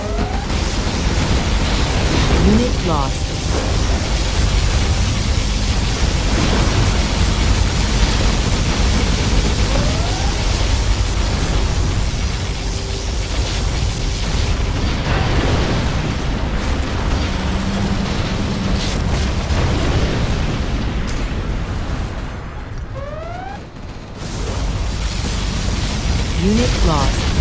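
Booming explosions and bursts from particle cannon strikes in Command & Conquer Generals Zero Hour, a dense continuous roar of blasts running almost the whole time, with brief in-game voice announcements over it.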